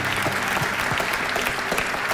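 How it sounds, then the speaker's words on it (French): Church congregation applauding, a dense, steady clatter of many hands clapping together, close and continuous throughout. "on applaudit Jésus"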